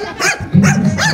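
A dog at a pet's first birthday celebration barks in three short, loud, close bursts spread over about a second, with no other voices heard.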